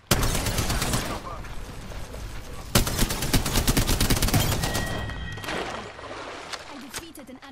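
Rapid bursts of game gunfire in Apex Legends, dense crackling volleys and machine-gun rattles filling most of the stretch, with a sharp fresh barrage midway and sparser shots toward the end, under game voice lines.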